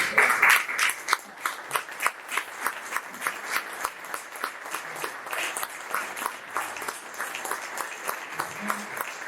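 A conference audience at a naval command hall in Alicante applauds, starting as a thick burst and thinning into distinct, rhythmic individual claps that carry on steadily for several seconds.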